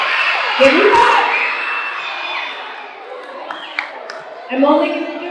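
Children at a school slime drop screaming and cheering, a loud excited crowd that swells at the start, thins out, then surges again toward the end, with shouted voices mixed in.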